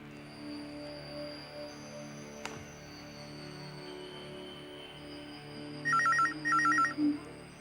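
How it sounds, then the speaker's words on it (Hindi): A quiet room, then a telephone rings near the end: two short bursts of electronic trilling, fairly loud and close. "प्लीज फोन उठाना।"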